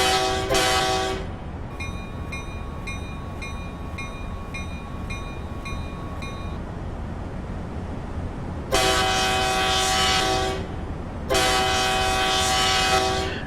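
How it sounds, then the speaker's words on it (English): CSX Genset locomotive horn in Train Simulator 2015 on the New York New Haven route, a short blast, a long quiet stretch with a faint chime, then two loud sustained blasts separated by a brief gap. "Got to blow the horn a bit, even if it's illegal usage."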